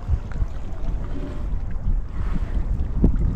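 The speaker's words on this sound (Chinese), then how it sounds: "我听到了水声" Water flows below a viewpoint at Hanshan reservoir in Yulin, Guangxi, a steady outdoor rushing wash mixed with wind noise, with no one speaking.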